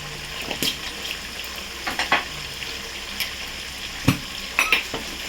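Spiced raw mango for achar, with salt, turmeric and chili powder, is stirred in a pan: an intermittent scraping and sizzle with several sharp clinks of the spoon, close and moderately loud.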